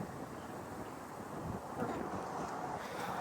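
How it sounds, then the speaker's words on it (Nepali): Strong wind blowing outdoors on a cold day, a steady loud rush buffeting the microphone throughout with no voices. "पुरा हावा चलिरहेको छ"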